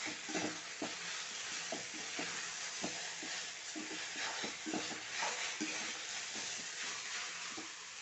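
Okra stir-fry sizzling steadily in a pan, a continuous close frying hiss broken by occasional stirring scrapes, with no voices.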